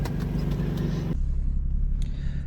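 A modified Infiniti G35 driving on a morning commute, its engine a loud, steady close rumble that drops to a lower, softer drone partway through as the car eases off.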